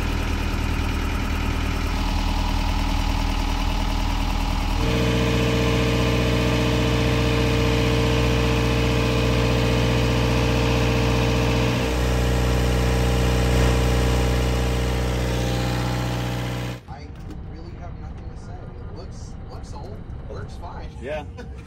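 An old sailboat's engine idles steadily and loudly with a constant low droning rumble, the tone shifting slightly a few times before it drops away near the end, leaving quieter background noise.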